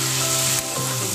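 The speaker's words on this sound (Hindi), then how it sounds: "फटाफट इसको मिक्स कर लेते हैं।" Potato and cowpea curry with garam masala stirred in a hot pan, giving a loud continuous sizzle and scraping stir close up, brief and with no talking.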